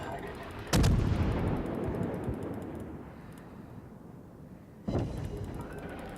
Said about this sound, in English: He still wants to keep shooting at me just because I'm a soft target